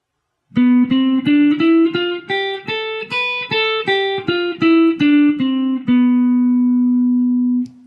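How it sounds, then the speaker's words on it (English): A guitar plays the Locrian mode scale one note at a time, climbing up and back down, ending on a long ringing low note. "which is called the Locrian mode, and it sounds like this."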